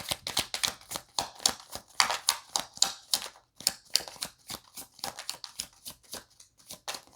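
Tarot cards being shuffled and laid out, a quick irregular series of crisp flicking and slapping card sounds, close and fairly quiet with no talk.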